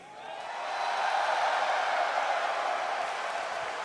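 An arena crowd at a Dota 2 event cheers for Team Radiant, a broad roar that swells within the first second and holds steady, moderately distant and without distinct voices.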